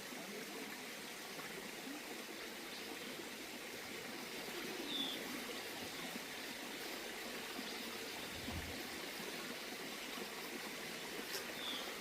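Sewage water pours directly into a river at a Ganesh immersion ghat in Junnar, a steady, continuous rushing wash with no break in its flow.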